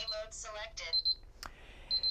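Arming beeps from a Qolsys IQ Panel 2 Plus security alarm panel: two pairs of short, bright electronic chirps, close and clear, separated by a pause, with someone speaking briefly before them and a click between.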